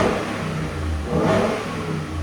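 A Ford F-150 with a 5.0L V8 and aftermarket exhaust revs loudly up close, a deep, throaty roar that swells twice in quick succession with no talking.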